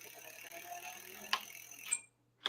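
An Engwe foldable electric bicycle's hub motor spins the lifted wheel in pedal assist 1, a faint mechanical whir with light ratcheting clicks and a couple of brief clunks before stopping.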